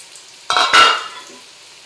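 Naatu kozhi country chicken fry stirred in a pan, two quick loud scraping strokes over a faint sizzle, close by, with a short clatter at the end and no talk.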